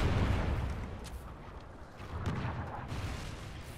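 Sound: Trinity rocket strike explosion in video game

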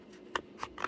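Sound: scissors cutting thick paper

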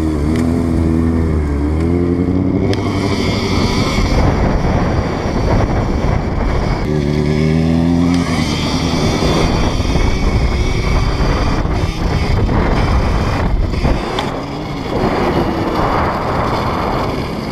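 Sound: electric motorcycle riding past

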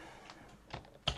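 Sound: typing on a computer keyboard

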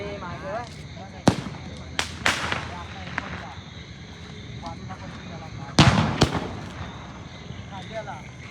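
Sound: firecrackers bursting at night

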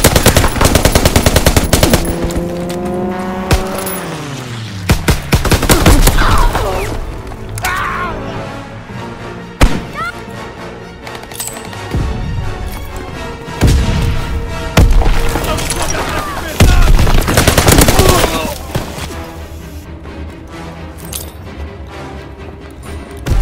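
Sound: enemy machine gun burst in video game Call of Duty: WWII

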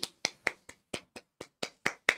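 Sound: clapping

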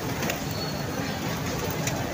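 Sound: pigeons cooing

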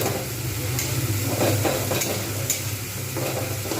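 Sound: stirring and frying spice masala in a pan

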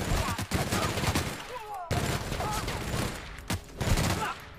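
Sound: gunfire in The Outer Worlds video game

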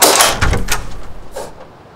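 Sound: knocking on a door

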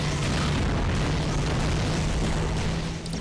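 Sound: rocket missile explosion in video game Agent Under Fire

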